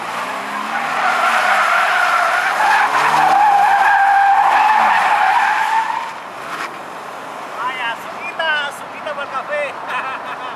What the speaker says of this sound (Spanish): como están las calles vacías y andamos en un auto rally, vamos a quemar las gomas aquí atrás